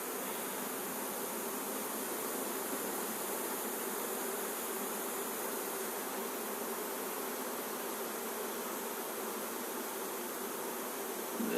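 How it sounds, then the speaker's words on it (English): A honey bee swarm being reclaimed by a beekeeper gives off a steady, dense buzzing that holds evenly throughout, a continuous insect drone with no talk over it. "It's a lovely swarm."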